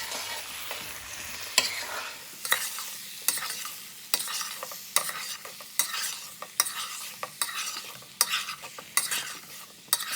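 A spoon scrapes and stirs green chilies into thick red curry gravy in a pan for butter chicken, with regular rhythmic scraping strokes over a soft sizzle, close and alone.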